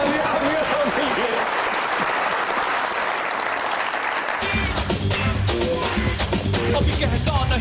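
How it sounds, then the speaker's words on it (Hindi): Sustained applause from a comedy show's studio audience, loud and continuous, with a voice speaking over it as the clapping swells. "बहुत सारी तालियां"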